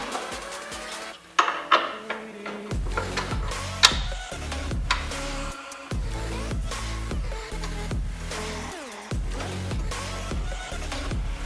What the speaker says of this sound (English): now we're going to slide the bracket in place.